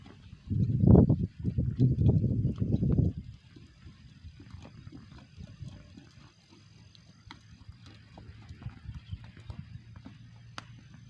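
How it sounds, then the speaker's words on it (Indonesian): A horse trots on a racetrack during morning training, with a loud burst of close hoof and movement noise at the start that fades to a quieter, distant outdoor rumble with scattered faint clicks. "di sana satu ekor kuda juga sedang berlari-lari kecil"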